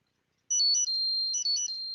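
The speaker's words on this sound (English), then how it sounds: "in this OS you got different ringtones, and they're old school style. Listen to this one." An old-school ringtone on a first-generation iPod Touch: a short, high-pitched electronic chirping trill in quick warbling bursts, clear and alone against silence.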